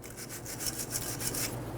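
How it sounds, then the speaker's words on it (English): A bristle brush scrubs the hub face of a 2011-2019 Ford Explorer during a front brake job, giving quick, rhythmic rasping strokes that repeat steadily at close range. "just use a bristle brush"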